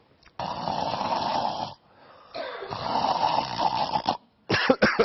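A person imitates snoring with their voice, producing two long rasping snores from vibrating throat tissue separated by a pause, then a few short choppy snorts at the end, close and loud.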